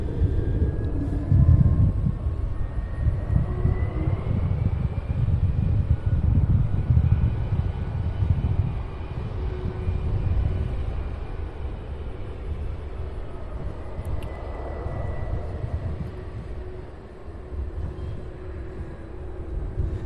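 Air Transport International aircraft at Cincinnati airport, a distant low rumbling roar that is strongest early and slowly fades over twenty seconds, mixed with wind noise and no talking.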